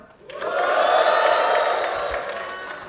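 A live rap battle crowd roars with shouting and cheering, swelling quickly and holding loud for a few seconds before easing off slightly.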